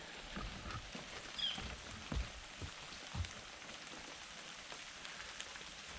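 Light rain patters steadily at a riverfront campsite on the Mississippi River, soft and fairly quiet, with occasional slightly louder drops and no voices.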